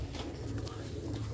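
Pigeons coo softly in a low, steady hum through a short moment, the tone close and continuous with no clear breaks between calls.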